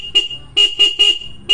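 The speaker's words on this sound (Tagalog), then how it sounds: "Busina." A Suzuki X4 motorcycle horn beeps five times in quick, uneven bursts, loud and close, each toot short and bright.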